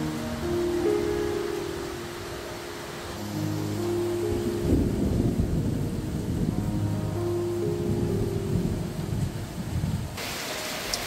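Steady rain pours over a forest campsite near Hulu Langat while low thunder rumbles and rolls through the middle, a continuous wash of rain throughout with no voices.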